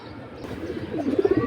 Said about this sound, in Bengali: অনেক সুন্দর সুন্দর কবুতর আছে